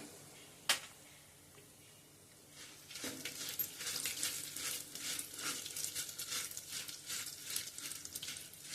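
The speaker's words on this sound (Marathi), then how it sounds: "जरा क्रिस्पी होईपर्यंत ते परतायचे" Dal frying with almonds and cashews in a pan: a single sharp click early on, then a steady, close, bright sizzle and crackle that runs to the end.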